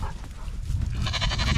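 Farm sheep, kept on a light feed ration, bleat close by in a short burst that swells louder toward the end.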